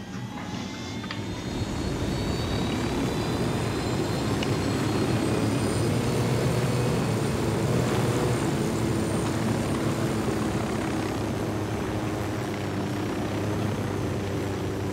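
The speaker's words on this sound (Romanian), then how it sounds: "Trebuie să fug repede cu elicopterul." Helicopter in the video game Ghost Recon Wildlands, its rotor and engine producing a loud, steady, close drone that holds unbroken for the whole stretch, with no talking.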